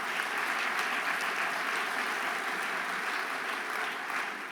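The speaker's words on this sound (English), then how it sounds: "Please give them all a round of applause." A large conference audience applauds mayors of Los Angeles, Philadelphia and Oklahoma City at an annual meeting's opening plenary, with steady, dense clapping sustained at even loudness throughout.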